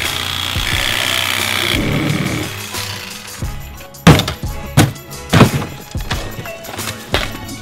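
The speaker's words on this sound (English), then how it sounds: "out there with the sawzall, like demoing the treehouse in their back lawn" A Sawzall reciprocating saw demolishing a wooden backyard treehouse: a steady buzzing cut that stops, followed by a series of heavy wooden thunks and knocks at irregular intervals, fairly loud and close.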